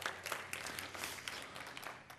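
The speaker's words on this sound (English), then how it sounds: "Can we give the Lord a clap on that?" A church congregation claps in a short, faint burst of scattered applause heard from a distance during a sermon.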